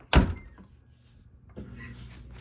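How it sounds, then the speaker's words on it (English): A dishwasher door shut with a sharp, close thunk, followed by a softer second clunk about a second and a half later, with no talk. "Now shut the door."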